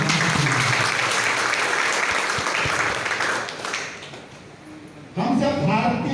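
Loud crowd applause fills a meeting hall, dense and sustained for about four seconds, fading briefly before a voice cuts back in over the tail.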